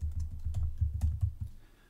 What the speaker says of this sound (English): I have to sign it by typing in my name